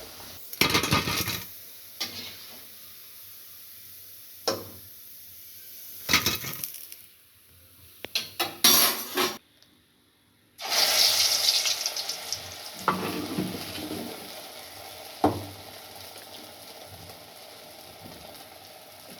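Medu vada sizzle in hot oil while a utensil turns them, with steady frying hiss, scattered metallic clinks and scrapes, and louder bursts of sputtering after each flip.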